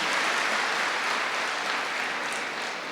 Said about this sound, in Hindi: जो एकदम हाथ उठाते उनके लिए ताली तो बजाओ